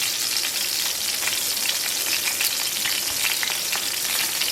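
Half an onion and a couple of all-purpose potatoes sizzle in melted butter over a medium flame, a close, steady bright hiss of frying with no break.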